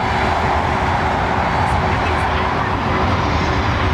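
An old aircraft engine drones steadily at London Heathrow Airport, a loud, continuous broadband roar that stays constant throughout, with no talk over it.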